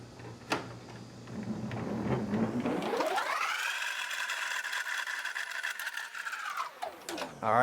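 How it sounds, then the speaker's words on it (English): A Husky adjustable-height worktable is cranked up, giving a steady whirring, ratcheting mechanical drone that rises in pitch, holds, then winds down. "Now let's crank this thing all the way up."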